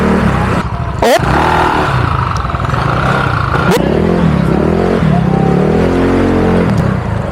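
Motorcycles rev and roar nearby at Nagsasa Cove in San Antonio, Zambales, their engines surging loudly and steadily with sharp throttle bursts, while a voice exclaims and people talk in the background.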